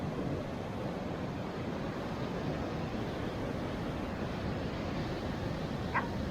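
Ocean surf rolls and breaks continuously on the beach at Cape Hatteras, a steady broadband wash with wind noise and no talking.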